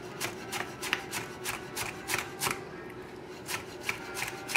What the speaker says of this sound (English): cut everything the same size.